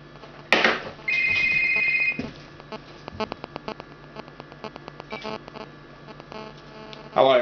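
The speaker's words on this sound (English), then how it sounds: "Let's give this phone a call and see if it actually works." An old 1998 Motorola Jazz brick mobile phone rings with an incoming call, giving a loud electronic tone burst followed by a rapid, steady series of sharp beeping pulses, heard close up with faint background hum and no talking.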